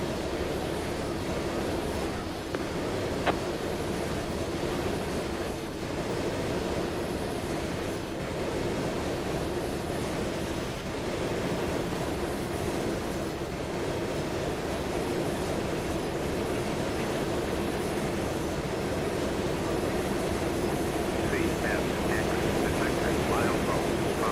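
A Conway Southern train rolls steadily in Trainz, a continuous loud rumble of wheels and engine with faint clicks, unbroken for the whole stretch.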